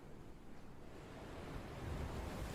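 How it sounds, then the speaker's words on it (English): Steady hollow rush of ocean waves as heard inside a conch shell held to the ear, a soft continuous wash that swells slightly louder toward the end, with no voices. "You hear crashing ocean waves."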